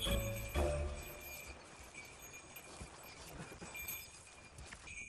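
Horse hooves clip-clop at a steady walking rhythm on the Tibetan Plateau as a child rides, quiet and somewhat distant over faint outdoor background.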